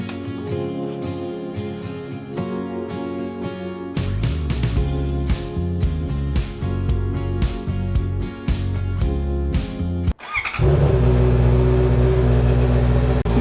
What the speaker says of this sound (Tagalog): stock pa tong exhaust pero pinakalkal na to kaya mas malakas. Pakinggan nyo guys, solid, no?